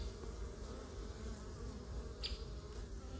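Honeybees fly around a hive entrance as the colony brings in pollen, making a continuous dense buzz and hum of many insects close by, steady throughout.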